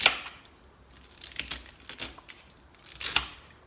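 Knife chopping vegetables for vegan stuffed cabbage, a handful of close, crisp cuts against a board spaced irregularly, with quiet gaps between strikes.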